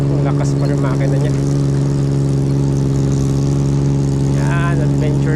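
A Suzuki mini van converted for off-road use, its engine running steadily with a constant droning hum throughout, loud and close, with a voice speaking briefly over it.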